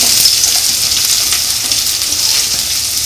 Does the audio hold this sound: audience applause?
no